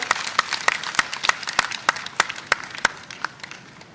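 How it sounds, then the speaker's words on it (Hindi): A small audience at a cobblers' community conference in Bhopal, India claps steadily, with sharp beats rising above a dense patter of smaller claps, holding a fairly even rhythm throughout without any voices. "चलिए इस बात पे एक बार जोरदार तालियां हो जाए।"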